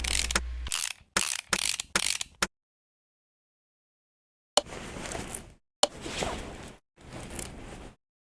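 Ratchet clicks from bolts being removed in the game Car Mechanic Simulator 2018 come in sharp repeated bursts, several quick runs, then a gap of silence, then three longer runs.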